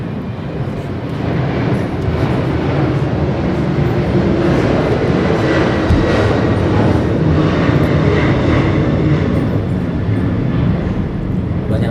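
Steady, loud aircraft engine roar from an airplane advertisement, holding an even broadband drone for about twelve seconds, with no talking.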